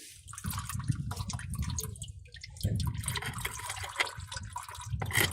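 Engine oil draining from a Suzuki Ignis during an oil and filter change runs as a continuous splashing, trickling liquid stream, fairly close and steady throughout with no talking.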